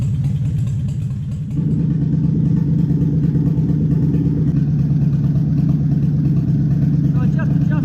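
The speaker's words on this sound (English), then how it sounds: "Missing a lung, down on 1 cylinder, still sits and idles." Car engine idling rough while down on one cylinder, a low, uneven pulsing rumble that steps up in level after a brief quieter start and then holds steady, close and continuous.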